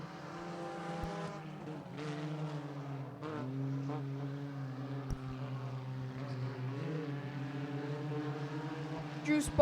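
Engines of race cars lapping a track during a heat race drone continuously, with pitch sweeps as the cars pass and shift, the sound sitting at a moderate distance under a commentator's voice.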